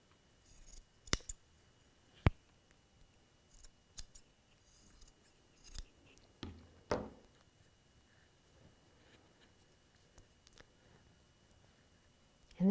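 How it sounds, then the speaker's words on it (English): Scissors snipping excess fabric off a quilt block, a series of sharp, close, quiet cuts spaced irregularly apart. "I'm going to cut the excess fabric off"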